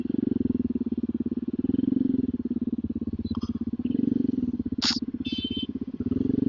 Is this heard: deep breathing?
no